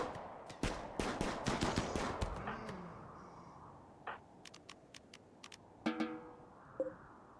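Assault rifle fire in the RimWorld video game: rapid bursts of gunfire at first, then sparse, distinct single shots, fairly quiet overall.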